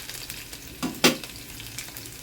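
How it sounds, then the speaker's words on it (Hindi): Onions browning in a tadka for an Uttar Pradesh urad gosht dish, a soft steady sizzle of hot oil with two brief louder bursts of spattering, close by and without talk. "प्याज को लाल करेंगे। ब्राउन करना है हमें, बस ये तड़का हमारा तैयार हो जाएगा अभी।"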